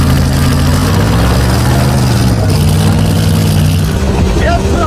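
A Dodge 360 V8 in an old abandoned farm truck runs steadily at a loud idle, its low rumble continuous and close, with some muffled talking over it.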